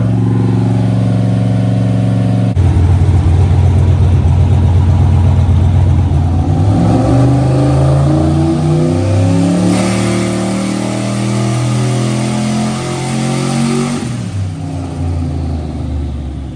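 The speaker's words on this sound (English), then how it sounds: "So that was a wastegate pull." A turbocharged LS1 stroker V8 on a dyno idles low, then revs up hard through a long wastegate pull at about 5.5 PSI, pitch climbing steadily before dropping back to idle.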